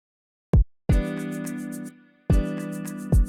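Kick drum sample in an FL Studio afrobeat guitar beat, three punchy low thumps heard alongside a bright sustained chord layer with rapid ticking highs, moderately loud with no talk.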